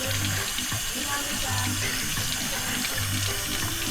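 Water pours steadily from a kitchen tap as squid (calamari) is rinsed under it, a loud continuous splashing rush that runs without pause.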